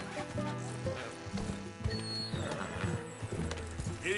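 A horse gallops in Red Dead Redemption 2. Steady, muffled hoofbeats pound under a continuous mix of game ambience and music for a few seconds, with no speech.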